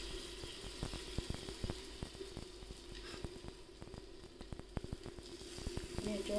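Bread pizza sizzles in butter on a hot griddle, a quiet steady frying crackle dotted with sharp pops and small clicks from utensils, with no talking over it.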